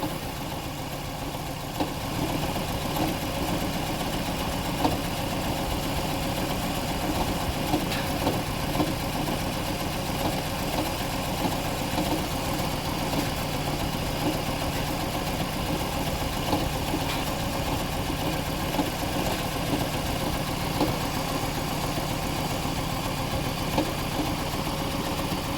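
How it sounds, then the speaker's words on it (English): A Toyota Estima Hybrid with a 2AZ-FXE engine idles with a cylinder misfire, a continuous rough mechanical rumble with faint irregular ticks and thumps, steady and unbroken, with no talking. "misfiring is occurring in cylinder number 1."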